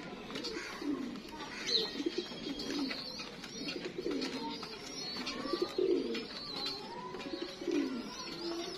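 Salara bloodline pigeons coo in repeated soft, throaty bursts, with several low rolling calls overlapping at close range against faint chirps and light background noise.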